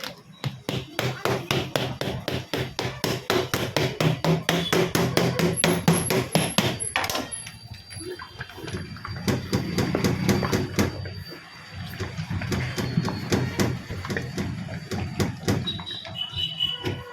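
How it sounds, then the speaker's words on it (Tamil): A can of Asian Paints Ace emulsion is closed and then shaken, giving rapid, loud, rhythmic knocking and rattling that carries on for the whole stretch with a brief lull in the middle. "அடுத்து வந்து பூட்டிட்டு சேக் பண்ண போகிறோம்."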